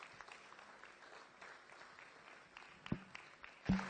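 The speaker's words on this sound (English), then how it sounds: "I believe she deserves a very huge round of applause." Scattered audience applause at a public lecture celebrating an organisation's 25th anniversary: faint, sparse claps with a few louder hits near the end, fairly distant, with no talk over it.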